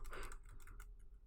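Arrow keys pressed on a computer keyboard, a quick cluster of clicky keystrokes close up, tapering into a few lighter taps.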